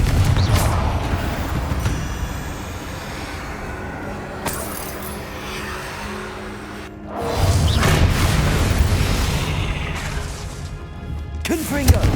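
Confringo blasting spells explode in a Hogwarts Legacy catacomb fight, loud crashing bursts and smashes amid clattering, metallic battle noise, with a brief lull before another heavy eruption and a sharp final crack.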